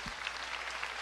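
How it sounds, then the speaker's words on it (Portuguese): A church congregation applauding during a sermon, a brief, dense, steady wash of many hands clapping, filling the whole moment. "Você pode aplaudi-lo aqui nessa noite?"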